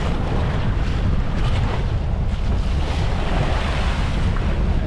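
Loud, continuous crashing of big ocean waves at sea in the West Philippine Sea, with heavy wind rush across the microphone, waves breaking and churning without pause.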